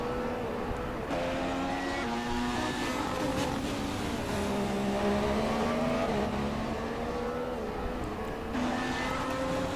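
A McLaren Formula 1 car in the F1 2016 racing game screams around the track on medium tyres, its high engine note rising and falling steadily through gear changes, loud and continuous with other cars' engines layered in.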